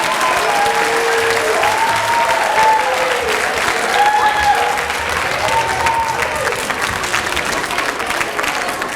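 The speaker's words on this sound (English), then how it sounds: "that does deserve a round of applause, Grace Kennedy." Audience at a middle school spring band concert giving a round of applause, a loud, sustained roar of clapping from a crowd, with brief cheering and whoops rising over it, lasting around nine seconds.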